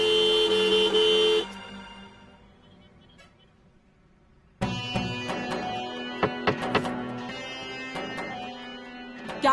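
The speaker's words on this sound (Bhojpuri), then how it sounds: "हॉर्न बजाइए जोर से।" A car horn honks on a busy street, with long sustained blasts near the start and more horn tones and thumps after a quiet gap, fairly loud and close.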